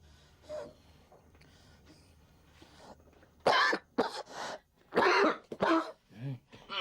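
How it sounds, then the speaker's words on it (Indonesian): A man coughs and clears his throat in several harsh, loud bursts, close by, after quieter background sounds. "Pak, kalau bisa batuknya ditahan dikit, Pak."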